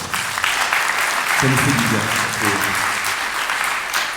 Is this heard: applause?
yes